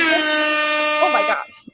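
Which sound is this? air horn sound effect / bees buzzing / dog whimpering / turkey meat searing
air horn sound effect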